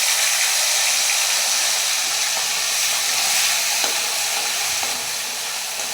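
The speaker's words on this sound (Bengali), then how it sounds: "মাছের তেলটা যখন ছাড়লাম ফুটে উঠেছে" Fish oil in a frying pan sizzling loudly and steadily, a dense continuous hiss with a few faint crackles and pops, close and alone without any talk.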